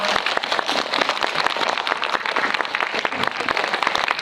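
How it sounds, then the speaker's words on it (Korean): Audience at a film premiere screening with the director and cast gives loud, dense applause, a continuous roar of many hands clapping close by, steady from start to end. "큰 박수 부탁드립니다"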